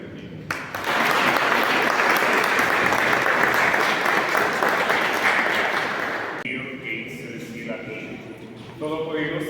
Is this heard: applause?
yes